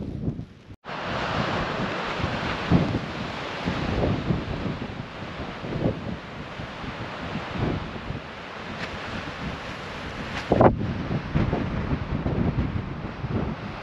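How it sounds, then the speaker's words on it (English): Strong alpine wind roars and buffets continuously around dawn, close and loud, with gusts rising and falling and a faint wash of surf beneath. "It's windy, really windy."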